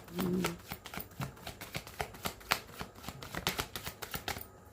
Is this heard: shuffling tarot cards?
yes